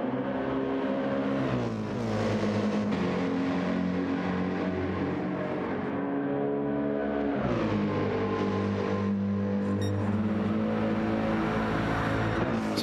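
Race car engines in a sim racing game at Interlagos drone at high revs, pitch climbing through gears then dropping on a shift before rising again, loud and continuous with no talk.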